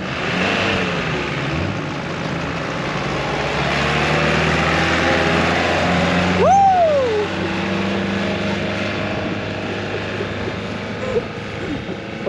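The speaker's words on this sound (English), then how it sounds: "Just drive away now at 10 kilometers an hour." A rollback recovery truck drives slowly away during a winch and snatch recovery at Sealine, a steady low engine rumble that swells a little midway, with a brief rising whine and distant voices over it.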